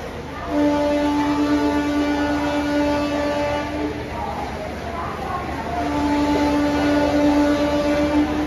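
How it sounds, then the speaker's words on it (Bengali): A new locomotive is coupled to the Vivek Express long-distance train at a station, where a long, steady horn sounds, breaks off, then sounds again over a rumbling engine drone, with people talking nearby. "তো এখন এখানে হচ্ছে গিয়ে নতুন ইঞ্জিন লাগানো হচ্ছে, যেটা এখন আমাদের নিয়ে যাবে হচ্ছে গিয়ে কন্যাকুমারিতে।"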